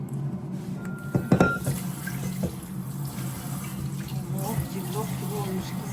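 Tap water runs steadily into a sink as hands are washed beneath it, with a few louder splashes early on. The flow is close and continuous, and a voice speaks briefly over it.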